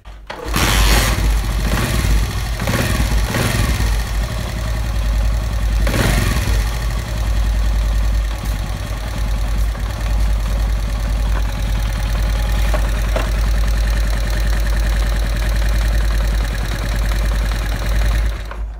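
Loud Honda CD 70 motorcycle engine idling close by with a steady low rumble and a rapid mechanical ticking from a faulty head cam layered on top, a few sharper revs early on.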